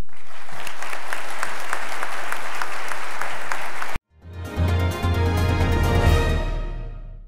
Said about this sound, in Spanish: pedir un fuerte aplauso para los graduados